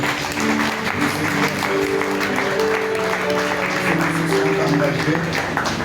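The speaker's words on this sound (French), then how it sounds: "Est-ce que nous pouvons acclamer le Seigneur?" A church congregation applauds and cheers loudly and continuously, with voices shouting and singing-like tones woven through the dense clapping for the full stretch.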